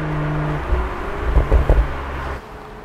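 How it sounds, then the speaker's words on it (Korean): A BMW Z4 M40i twin-turbo roadster cruises with a low engine drone, and a short burst of three or four deep exhaust pops crackles near the middle before the revs fall away. "지금 자 주행 중에는 이렇게 팝콘 소리가 나요"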